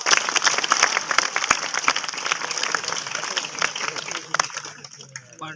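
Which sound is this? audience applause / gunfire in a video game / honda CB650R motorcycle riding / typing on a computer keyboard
audience applause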